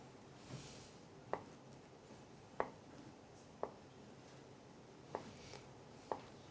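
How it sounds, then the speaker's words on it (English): A knife cuts soft tofu into small dice, producing five or six faint, evenly spaced light taps over a quiet background hiss, each brief and soft, with no talk. "Now, cut the tofu,"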